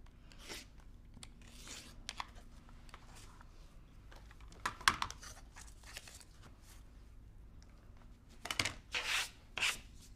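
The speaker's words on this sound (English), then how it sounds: "Okay, so then you pull the paper off." Foundation paper is torn away from the back of a sewn quilt block in short crinkly rips and rustles, scattered bursts with a couple of louder tearing pulls toward the end, close and fairly quiet.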